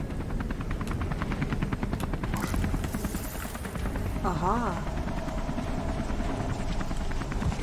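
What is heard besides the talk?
helicopter hovering in video game Beyond Two Souls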